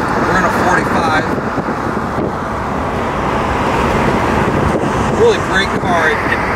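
A 1991 Pontiac Trans Am convertible cruises along the road, heard from inside as a loud, steady drone of engine and tyre roar with wind noise throughout.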